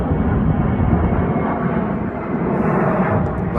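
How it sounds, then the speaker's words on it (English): An aircraft passes overhead in Washington, DC, a loud continuous low roar of engines dominating the scene, steady and close with no voices heard. "letting the aircraft fly over."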